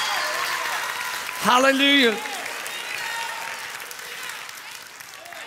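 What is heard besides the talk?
church congregation applause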